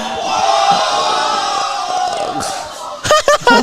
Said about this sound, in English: the crowd is going wild right now.